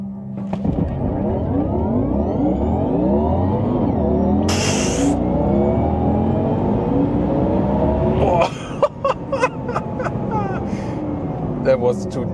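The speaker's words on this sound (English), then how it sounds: "Alright, now Taycan Turbo GT, launch control." Porsche Taycan Turbo GT electric car in a launch control start, a rising motor whine sweeping upward through hard acceleration, loud and close, with people talking and exclaiming over it.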